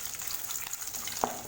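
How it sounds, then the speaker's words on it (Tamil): Peanuts fry in oil with chillies for garlic rice, making a soft, steady sizzle close by with one brief clink of a stirring utensil near the end. "இப்போ இது கூட வேர்க்கடலை சேர்த்துக்கோங்க. சேர்த்துட்டு இதையும் லேட்டாக வறுத்துக்கலாம்."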